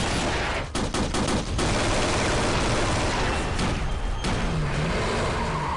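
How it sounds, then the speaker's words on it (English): Gunfire rings out in a televised police chase, several shots in quick bursts amid loud action noise and engine roar, with no talking. "Multiple shots fired at the police! We are taking heavy fire!"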